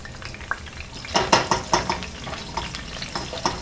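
Leaves fry in hot oil in a pan, with a low sizzle broken by sharp irregular pops and crackles, several clustered close together, heard near and without speech.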